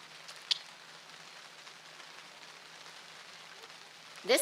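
Steady outdoor rain falling during a high school graduation ceremony, a soft continuous hiss throughout with a couple of brief louder taps, and no talk.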